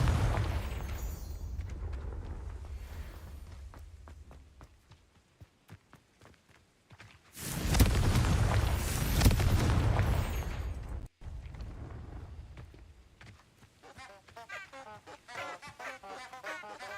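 A Confringo blasting spell detonates in a video game: a sudden loud, broad explosive burst roars for a few seconds after quieter footsteps and rumbling, then cuts off abruptly, leaving softer ambient sounds and a voice-like murmur.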